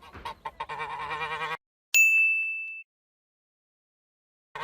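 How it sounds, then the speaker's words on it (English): A goose gives a single sharp, loud honk at close range after a stretch of music, followed by silence. "The goose runs into the plant tent."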